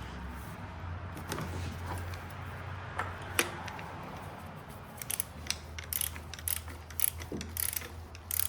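Mechanical ratcheting clicks come from a hand ratchet snugging the oil filter housing on a 2025 VW Jetta GLI. Bursts of clicks cluster near the end, close and fairly soft over a low steady hum, with no talking.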